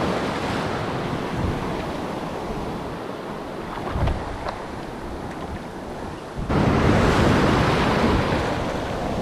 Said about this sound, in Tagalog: Ingat lang tayo sa malaki ng alon.